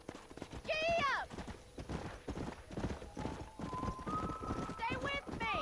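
Horse galloping in the Western video game Red Dead Redemption, rhythmic clip-clop hoofbeats close and steady, with a whinny and voices calling out over the running.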